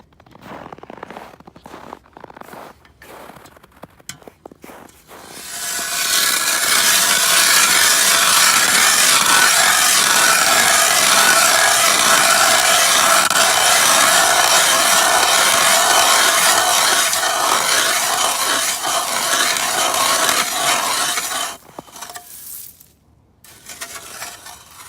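A 2-stroke ice auger bores a hole through ice, its engine snarling loudly and steadily for about fifteen seconds before dropping off, with quieter handling sounds before and after.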